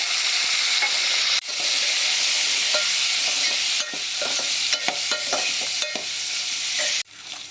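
Cut raw mango pieces go into hot oil with asafoetida and curry leaves, giving a loud, steady sizzle and hiss with stirring clatter in a pan. The sound dips briefly a few times, then swells again, with no talking.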